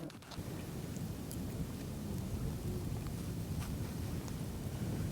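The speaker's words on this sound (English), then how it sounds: "The wind is starting to pick up." Steady wind buffeting the microphone outdoors at a long-range precision shooting range, a constant low rumbling roar that fills the whole stretch with no talking.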